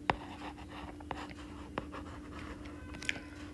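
Faint scratching of a pen writing by hand on paper during a maths lesson, with a few short strokes and taps over a low steady hum and no voices.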